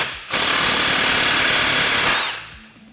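Impact wrench with a 27 mm socket tightening a primary clutch removal tool on a Polaris General, one loud, close, continuous rattling burst lasting about two seconds before it winds down.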